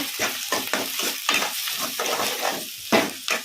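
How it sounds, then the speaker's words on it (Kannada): Onions softened in a pan with green chillies for poha, stirred and frying; a steady close sizzle runs throughout with repeated scraping strokes of the spoon, no talking. "ಸ್ವಲ್ಪ ಮೆತ್ತಗಾಗಿದ್ದಾವೆ ಉಳ್ಳಾಗಡ್ಡಿ, ಅದಕ್ಕೆ ಹಸಿಮೆಣಸಿನ್ಕಾಯಿ ಹಾಕೋಣ. ಕಲಿಸ್ಕೊಂಬಿಡೋಣ"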